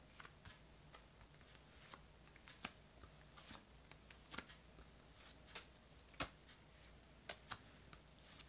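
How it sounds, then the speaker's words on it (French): Tarot cards are spread out on a table, giving soft, irregular slides and crisp little taps and flicks, quiet and close with no talking. "je vais étaler les cartes"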